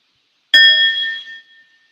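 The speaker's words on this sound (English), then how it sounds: "And I also have a bell" A bell is struck once during a grief doula session, a bright clear ring that starts sharply and then hums as it fades away over about a second.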